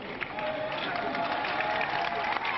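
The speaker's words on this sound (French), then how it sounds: "Applaudissements modérés lorsque la voiture d'Édouard Balladur quitte Matignon." Moderate applause from a crowd outside Matignon as the French prime minister's car departs, a steady dense patter of clapping at middling distance, with faint voices mixed in.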